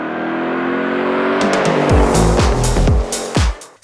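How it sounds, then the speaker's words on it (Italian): A Ford Mustang Dark Horse with a naturally aspirated 5-litre V8 roars loudly and close, revving and shifting through a run of sharp gear changes, with a brief tyre squeal near the end. "Sotto il cofano la Dark Horse monta il V8 5 litri aspirato più potente di sempre"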